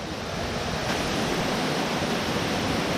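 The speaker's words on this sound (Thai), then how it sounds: "ตอนนี้เราอยู่ที่น้ำตกตาดฟ้านะครับ น้ำตกตาดฟ้า" Tad Fa waterfall in Thailand, swollen after overnight rain, gives a steady, dense rushing roar that stays loud and unbroken throughout, with no voices.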